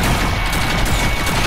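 Fortnite gunfire rattles in a loud, continuous rapid burst of shots with no pause across the short moment.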